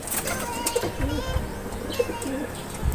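Pigeons cooing in a loft, soft throaty coos repeating close by in short bursts with a few faint chirps and background rustle.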